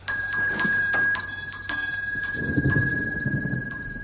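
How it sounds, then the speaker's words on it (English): A bright, high bell rings repeatedly in quick strikes, its tone lingering, with some low rumbling underneath toward the end. "who's ringing the bell?"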